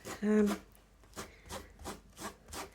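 Rhythmic rasping strokes of a grater rubbing against fabric, about five scrapes in a steady back-and-forth, close and quiet, with a brief vocal sound at the start.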